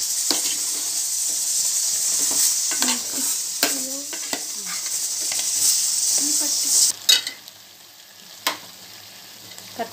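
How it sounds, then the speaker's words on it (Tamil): Brinjal pieces sauté in a pan for prawn curry, giving a steady, close sizzle with scraping stir strokes; the sizzle cuts off sharply near the end, leaving a few clinks. "போட்டு வதக்கி கொஞ்சம் நேரம் அப்படியே அதிலே வேக விட்டுருவோம்."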